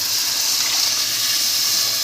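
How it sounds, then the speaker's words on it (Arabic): Hot water poured steadily into a cooking pot of rice, a continuous close splashing gush lasting the whole moment with no talk. "جايبه انا هنا ميه سخنه"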